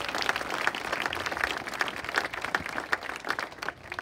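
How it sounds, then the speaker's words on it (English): Audience at an elementary school opening and ribbon cutting clapping in a steady patter of claps, moderately loud and somewhat distant, continuing for several seconds without talk. "If we can get a round of applause for that"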